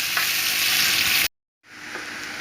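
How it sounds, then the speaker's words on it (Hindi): Onions frying in a pan for a potato and egg dish, a loud, close, steady sizzle that cuts out briefly and then resumes a little softer. "अब इसके अंदर हम ऐड करेंगे प्याज।"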